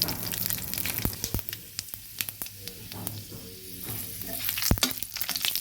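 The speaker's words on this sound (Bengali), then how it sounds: "দিয়ে দিলাম তেজপাতা দিয়ে দেব পাঁচফোড়ন" Bay leaf and panch phoron crackling in hot oil along with a torn dried red chili, a busy sizzle broken by sharp pops and clicks of a utensil, close and fairly loud, with no talking.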